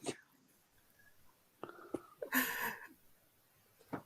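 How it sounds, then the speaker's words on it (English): A quick sneeze bursts out near the middle, sharp and breathy, with faint breathing and small throat sounds around it in an otherwise quiet room. "I speak while I sneeze."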